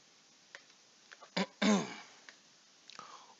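A single sharp sneeze bursts out near the middle, close and loud, framed by faint breaths and small mouth noises in a quiet room.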